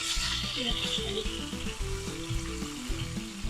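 Freshly ground chuck roast smash burgers frying on a flat griddle, a dense steady sizzle with crackling and spatter, with scraping and shifting as the patties are flipped, close and moderately quiet.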